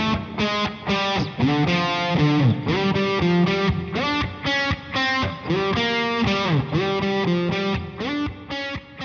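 SG electric guitar played through heavy distortion, chords and sustained notes ringing out with brief gaps between phrases, loud and alone.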